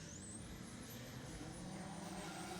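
A drift car's engine revs on the start line at a pro-am drifting competition, heard faint and distant as a broad, steady roar with a high whine that climbs and then falls away.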